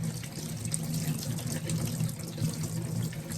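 Steady running water from a tap splashing into a sink while a soapy makeup brush is rinsed, continuous and close, with faint clattering now and then.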